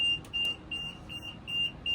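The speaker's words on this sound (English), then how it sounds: "You're going to get 2 alarms." An AWS warning alarm in a train cab beeps as a steady, piercing high tone in repeated bursts of varying length, fairly faint over a low cab rumble.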